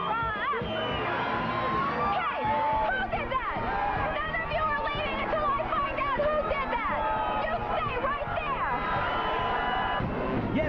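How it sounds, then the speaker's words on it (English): Large crowd at a New Orleans street parade, a dense roar of cheering, shouting and babble that stays loud and continuous throughout, with whoops rising above the hubbub. "where Rhonda is on her own float in a parade, annoying a large crowd"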